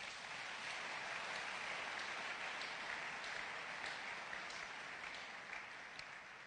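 A church congregation applauds steadily and loudly, the dense clapping filling the space without letup for several seconds.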